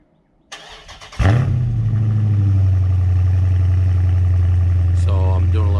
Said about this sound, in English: So here's a cold start, just to give you a little reference.